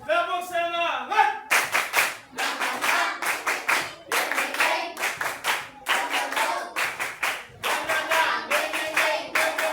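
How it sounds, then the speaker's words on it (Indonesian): A group claps a fast, patterned spirit cheer in a classroom, bursts of claps separated by short pauses, after a brief spoken call at the start. "Tepuk semangat."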